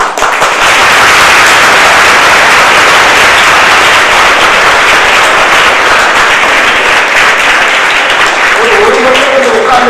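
Sustained applause from a large audience at a Tamil-language lecture event, dense and loud throughout with a brief voice emerging near the end.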